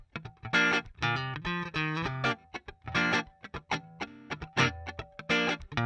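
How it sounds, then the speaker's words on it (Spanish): Distorted electric guitar plays choppy notes and chords, each sharp pick attack clearly audible against the strings, with no voices. "se escucha bien el golpe de la púa contra la cuerda"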